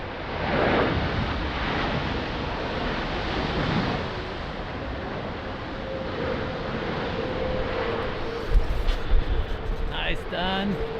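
Strong wind at Lisbon Airport roars as a broad, steady rushing noise with gusty surges, overlaid by a distant aircraft engine hum and brief radio-like chatter near the end.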